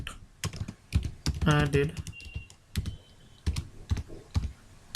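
Typing on a computer keyboard, quick irregular clatters of keystrokes close by, running under a voice speaking throughout.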